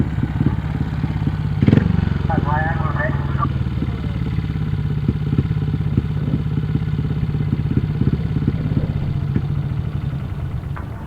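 Grasstrack racing motorcycle engine running at a meeting, a steady mid-pitched drone throughout with a sharp clatter early on, heard under a commentator's talk.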